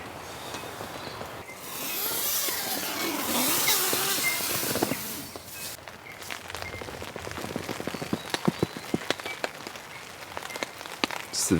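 Rain falling on a tent under a tarp while camping in windy bush, a steady close patter with heavier hissing gusts early on, then scattered louder drops striking the fabric.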